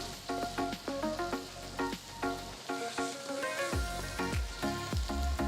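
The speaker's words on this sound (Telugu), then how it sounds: "తరిగిన రెండు పచ్చిమిరపకాయలు వేస్తున్నాను ఇవి ఆప్షనల్ వీటి అన్నిటినీ కూడా మీరు హై ఫ్లేమ్లోనే చకచకా వేయించాలి" Chopped green chillies with green and red capsicum stir-fry on high flame, a steady close sizzle broken by repeated metallic clinks and scrapes of a spatula in the pan.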